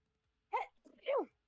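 A single quick, faint sneeze in two bursts, a sharp intake then a short burst, heard alone against a quiet background.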